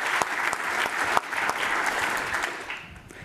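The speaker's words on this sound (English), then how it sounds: "you can clap again" Audience applause at the closing of a networking conference day, a steady wash of many hands clapping with a few sharper claps standing out, fading slightly toward the end.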